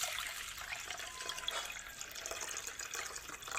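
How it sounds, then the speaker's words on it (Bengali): Water poured into a pot of cooking lentils with radish in a Bengali village kitchen, a steady close pouring and trickling hiss that runs alone for a few seconds. "তো এবার ডাইলে গুণ জল দিয়ে বয়া দিমু।"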